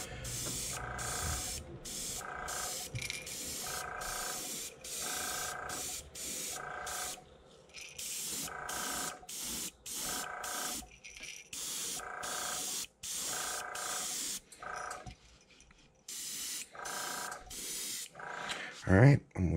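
An airbrush spraying paint onto a topwater popper fishing lure gives repeated short bursts of close, steady hissing separated by brief pauses, with a few quieter gaps near the end.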